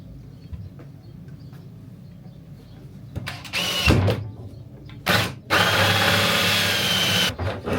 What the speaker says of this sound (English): So I'm just using a 50mm starrett cutter or hole cutter.